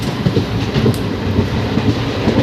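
Inside a moving passenger train near Guwahati, a loud, steady rumble carries a rhythmic clickety-clack of wheels over rail joints, with no talking.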